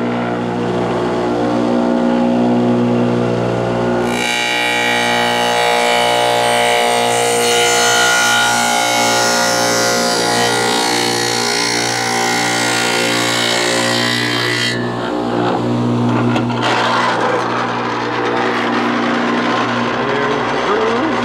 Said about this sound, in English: We've changed our dado blade to 3/8 inch.